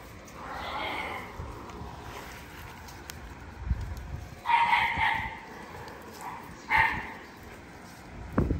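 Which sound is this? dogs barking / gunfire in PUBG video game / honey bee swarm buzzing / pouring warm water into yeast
dogs barking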